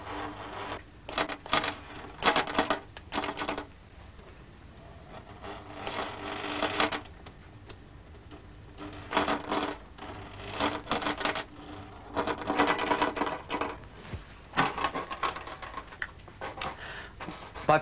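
A stepper motor drives the needle of a sewing machine in repeated bursts of rapid mechanical clattering and whirring, separated by short quiet pauses.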